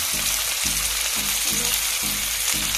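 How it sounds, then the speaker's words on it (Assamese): Pasta sauce with tomato sauce and soy sauce sizzles loudly in a hot pan while a spoon stirs it in regular rhythmic strokes, roughly five or six sweeps, close up with no speech. "গোটেইখিনি মিক্স লৰাই দিছোঁ"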